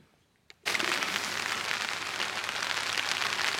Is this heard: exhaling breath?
no